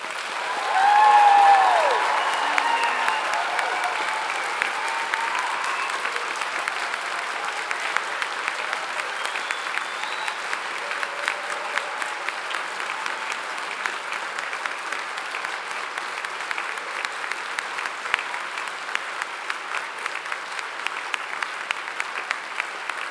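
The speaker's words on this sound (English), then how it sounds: "giving our amazing graduates a huge round of applause" Audience at a Glasgow degree ceremony applauding graduates: sustained, dense clapping from a large crowd, swelling loud at first and then holding steady for over twenty seconds, with a brief voice early on.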